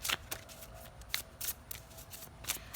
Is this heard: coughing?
no